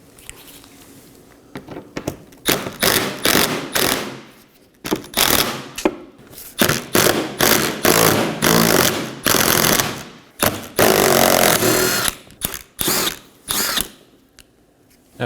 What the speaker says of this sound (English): we're going to locate 5 10mm screws and remove those as well